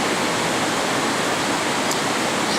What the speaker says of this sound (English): At this point the river runs into a narrow constriction, and sometimes called the Highbury Gorge.